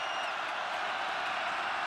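A college football stadium crowd at a 2005 Florida State versus Clemson game gives off a continuous, loud wash of roaring noise with no break or swell.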